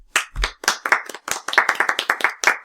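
A few people clapping close to the microphone on a podcast, a quick run of distinct sharp claps in an irregular then steadier rhythm, with no talk over it.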